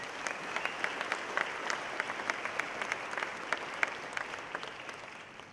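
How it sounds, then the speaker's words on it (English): A large audience at the Invest in Africa Mining Indaba conference gives a sustained round of applause, dense and even, with many hands clapping together before it slowly tapers off. "I think you should give them a round of applause for it"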